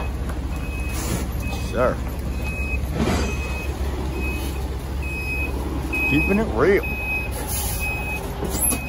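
A truck reverses at a scrap yard with its backup alarm beeping at a steady, evenly spaced rhythm under a low engine rumble, while someone talks and exclaims nearby.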